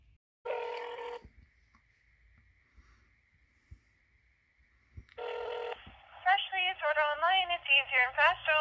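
An outgoing phone call to a Greek gyro restaurant in Willoughby, Ohio: two buzzy ring tones several seconds apart over a faint line hum, then a voice answers on the line.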